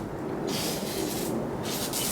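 A can of WD-40 sprays in two short hissing bursts while working on a 1990 C4 Corvette, close and fairly quiet.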